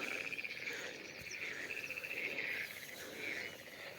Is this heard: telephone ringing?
no